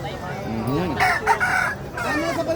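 A rooster crows close by, a long rising and falling call, with a second crow starting near the end.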